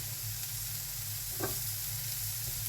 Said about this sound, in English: So these are sizzling away really nicely